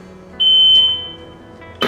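Zontes M310 scooter giving an unlock beep, a single sharp electronic tone lasting about half a second and fading off, followed by a short click-like burst, with no talking.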